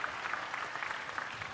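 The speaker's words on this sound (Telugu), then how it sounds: "గట్టిగా చప్పట్లు కొట్టి అభినందించండి" An audience at a parent-teacher meeting event claps together. The applause is a dense, steady patter that sounds somewhat distant and moderately loud, with no talking over it.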